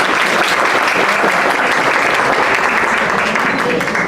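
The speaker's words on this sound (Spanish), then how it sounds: "les voy a pedir un aplauso" A seated audience at a book presentation in Mexico breaks into sustained, even applause welcoming author Ángeles Wolder, close and full with no pauses.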